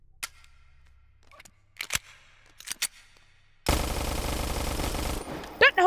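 Full-auto gunfire from a modded video game gun: a few scattered single clicks and shots, then a sustained loud burst of rapid fire lasting about a second and a half, followed by brief squeaky sounds.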